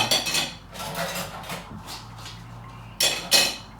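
Dishes being washed by hand in a home kitchen, with plates and cutlery clinking and clattering in irregular bursts, loudest at the start and again near the end.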